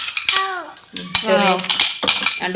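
Small spoons clink against black dishes while being handled, a few sharp metallic clatters and taps spread across a short stretch with whistly tonal sweeps between them.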